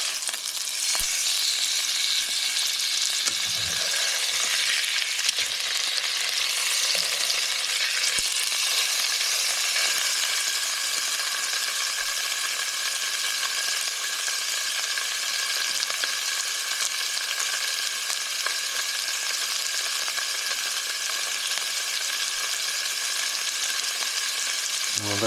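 Chicken pieces fry in a skillet with spinach and mushrooms, a steady, close hiss and crackle of sizzling oil that holds for the whole stretch, with a few soft knocks early on and no talking.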